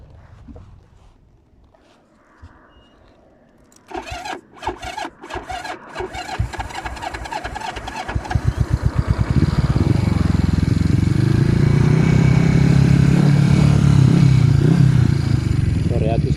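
A Yamaha XS400 motorcycle cranks with the choke on through a run of sputtering turnover attempts, then catches and settles into a loud, steady idle close by, with a voice talking briefly early on.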